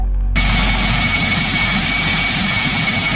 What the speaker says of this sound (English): Flight 373A is finally climbing out of Toronto Pearson International Airport.